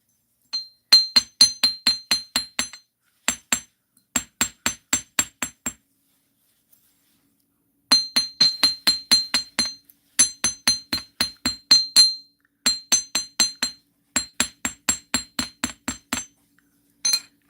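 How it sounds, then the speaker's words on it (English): Ball peen hammer texturing a metal wire loop, sharp ringing metallic taps struck in quick bursts of about five to eight blows, separated by short pauses, close and loud with no talk. "use the other side of your hammer, the ball peen side, to put some texture onto your"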